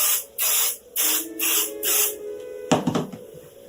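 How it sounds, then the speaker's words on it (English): Four short, even hissing bursts from a spray adhesive can onto quilt backing, close and loud, followed by a brief rustle of fabric being handled. "So a light spraying on the backing."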